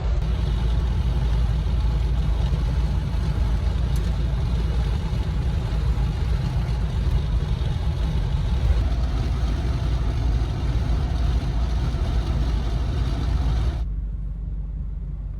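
Wind noise inside a Land Rover cruising on the highway during a road trip, a loud, constant broadband roar mixed with low engine and road rumble that drops away abruptly near the end.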